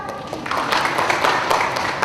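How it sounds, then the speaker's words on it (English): Schoolchildren in a classroom clap for themselves in a short, busy burst of applause that swells after a moment, with a few voices mixed in. "Give yourselves a clap."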